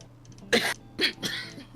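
A person sneezes, then follows with a couple of shorter, breathy bursts in quick succession, close and fairly loud, with no talking over them.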